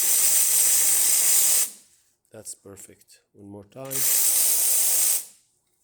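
Steam wand on a Quick Mill Vetrano 2B espresso machine hisses loudly and steadily in two long bursts, with a short pause between them where a person speaks.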